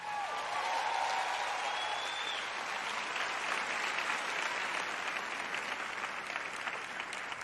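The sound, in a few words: audience applause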